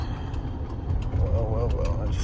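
Steady low engine rumble from a 2003 Chevy Silverado pickup with a 6.0L V8 and no exhaust, heard from inside the cab while driving at night, with someone talking over it.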